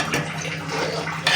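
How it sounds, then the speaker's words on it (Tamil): Tamarind extract pours into a hot cooking pan, giving a short, close, continuous liquid splash and sizzle that lasts just over a second. "அந்த புளிக்கரைசலை 100 கிராம் புளிக்கரைசலை ஆட் பண்ணிக்கலாம்"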